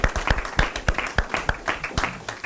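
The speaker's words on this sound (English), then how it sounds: "Let's give all the ladies a round of applause." An audience at a women in manufacturing day event claps in a brief, moderately loud burst of scattered individual hand claps.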